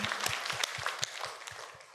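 Church congregation applauds during a sermon service, a quick run of evenly spaced claps that fade slightly, bright and close with a faint background murmur.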